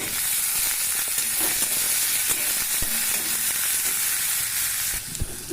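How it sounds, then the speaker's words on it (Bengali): Ridge gourd, potato and onion fry together in oil with a constant hissing sizzle, punctuated by occasional scrapes and taps of a spoon stirring the pan, close and fairly loud, no speech. "ঝিঙ্গা আলু পেঁয়াজ তিনটাই একটু ভালো করে ভেজে নিয়েছি"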